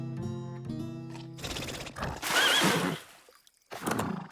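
Cartoon horse gives a loud, drawn-out whinny mid-clip, preceded by a sustained musical tone and followed by a short burst of noise, no speech.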